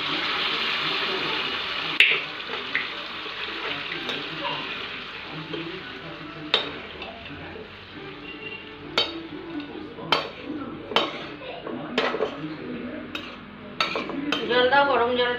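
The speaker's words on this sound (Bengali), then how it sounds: "এইবার মাংসটা প্রেসারে আমি ট্রান্সফার করে দেবো।" Cooked meat is transferred from a pan into a washed pressure cooker with repeated metallic clinks and scrapes of a spoon against the pots, growing busier toward the end, with voices talking in the background.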